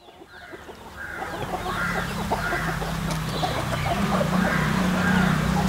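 Free-range native country chickens cluck and call in a loose chorus outdoors, with repeated soft clucks and a few louder calls over a steady background din, fairly close.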